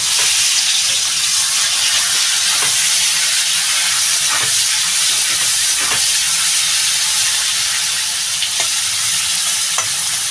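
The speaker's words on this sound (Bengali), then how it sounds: "চিংড়ি মাছটা ঢেলে দেবো" Prawns fry in hot mustard oil in a wok, giving a loud, continuous hissing sizzle close up, with scattered stirring taps and no talking.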